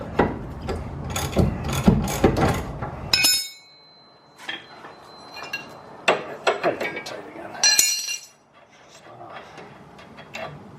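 A wrench works at a nearly seized bolt on a daily-driver car in a series of sharp metallic clicks and knocks, with bursts of effort, a quiet pause, then more clanking, all close by.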